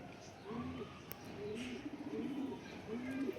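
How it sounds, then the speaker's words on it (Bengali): A male tournament racing pigeon gives a few close, throaty cooing phrases in quick succession, rising and falling over a quiet room tone. "এই যে হচ্ছে একটা ৩৫ কিলো টুর্নামেন্টে আসা নর, সুন্দর একটা নর।"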